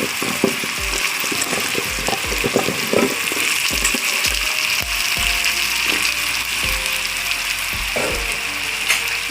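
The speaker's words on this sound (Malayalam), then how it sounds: "നമുക്ക് ഇളക്കി കൊടുക്കാം ഒരു പത്ത് മിനിറ്റ് നേരം ഫുൾ ഫ്ലെയിമിൽ ഇട്ടിട്ട് ഇളക്കി കൊടുത്ത് ഇരിക്കുന്നു" Medium-sized gooseberries fry on full flame in a pan, sizzling steadily while a spoon stirs them in regular scraping, clicking strokes.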